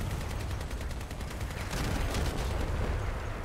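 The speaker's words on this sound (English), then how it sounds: "I can shoot all day." Rapid vehicle-mounted weapon fire in the combat game Crossout: a dense, continuous barrage of shots with heavy low rumble that runs unbroken the whole time, loud and close with no pauses.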